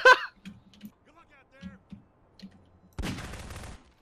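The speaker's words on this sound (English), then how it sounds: "Stretch is still shooting at you." A short, loud, dense burst of gunfire in the Garry's Mod video game, breaking in after scattered speech and game sounds.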